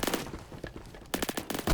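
Rapid automatic gunfire in the online shooter game Phantom Forces, dense crackling bursts with a short pause in the middle and a fresh burst at the end, no talk.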